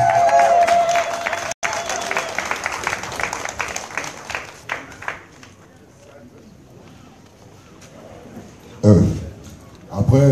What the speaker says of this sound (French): Pousse les cris de joie. Nous voulons une pluie d'acclamation.